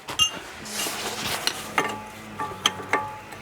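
Wrench clicks and metallic taps while loosening a brake line fitting on a 2001 Audi A4 Avant during a front brake job; several sharp, close clicks and clinks spaced irregularly over low background noise.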